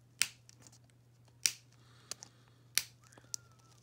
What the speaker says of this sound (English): I'm just going to trim these little tags off. I use my nipper.